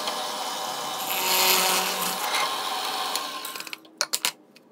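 Drilling holes in a bent metal mounting bracket while installing a Wixey digital depth gauge on a Supermax machine: a steady, loud grinding whir runs for several seconds, then stops, followed by a few sharp knocks and clicks.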